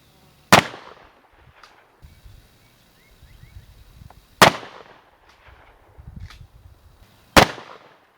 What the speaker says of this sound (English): the next series of sequence of shooting is going to be from about 25.